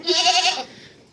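A goat gives a single short, close bleat, loud and wavering for about half a second, then fades to quiet.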